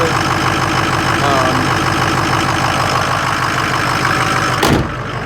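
A Ford 6.0 Powerstroke diesel truck engine with blown head gaskets runs at a steady, loud idle, its low rhythmic knock continuous throughout, ending with a brief sharp clunk near the end.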